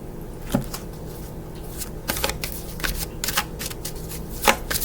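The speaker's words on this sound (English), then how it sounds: "I've been shuffling this this deck for a while." A deck of tarot cards being shuffled by hand close up, with repeated riffles and soft card slaps in an irregular rhythm, with no voices.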